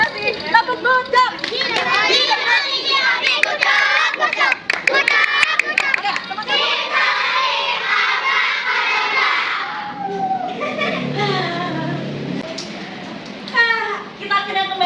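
Group of children clapping and cheering at a school activity, loud bursts of applause mixed with shouting and an adult voice speaking over them.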